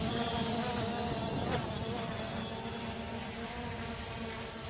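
An MJX Bugs 2 quadcopter drone hovers outdoors in wind, a steady, close, insect-like buzz of whirring motors and propellers with a slight shift in pitch midway and no speech.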